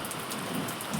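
Heavy rain pours down in a steady, dense hiss that fills the whole moment, with no voices.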